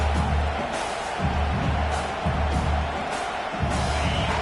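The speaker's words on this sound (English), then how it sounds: "This crowd, full throat, spreading the eardrums and letting them know it's going to be a long day." A stadium crowd roars in a football video game, a steady dense cheer with rhythmic low thumps pulsing beneath it, loud and continuous throughout.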